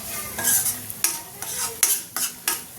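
Turmeric and Kashmiri red chili powder masala is stir-fried in a pan for dhaba-style dum aloo. Sharp spatula scrapes and stirs repeat every half second or so over a steady, close sizzle.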